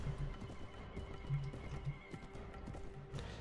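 A badly wounded horse in the Warband video game whinnies amid battle, with a few short vocal bursts and soft hoof clatter over a steady background hum.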